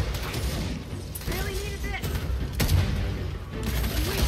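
Gears of War 4 campaign gunfire while shooting enemies in the head, with bursts of rapid shots and mechanical weapon clatter among booms, heard under voices.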